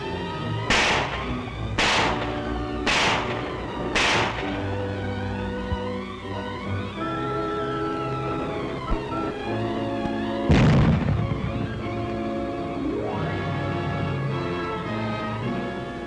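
Gunfire and explosions around a Dutch machine gun bunker during the German invasion of the Netherlands: four sharp bursts in quick succession open the clip, then a heavy blast comes later over a sustained droning, musical background.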